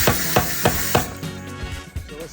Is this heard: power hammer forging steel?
yes